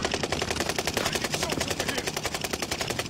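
Rapid automatic gunfire in Call of Duty Vanguard Warzone, a dense, evenly spaced burst of shots close and loud, firing continuously for about three seconds without talk.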